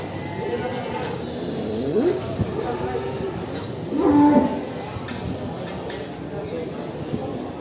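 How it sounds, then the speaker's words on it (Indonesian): Cattle at a livestock market low twice in deep, drawn-out moos, one near the two-second mark and a longer one around four seconds, over a constant murmur of market crowd noise. "baik di pasar hewan ini, kemudian pasar hewan Muntilan maupun pasar hewan Ambarawa"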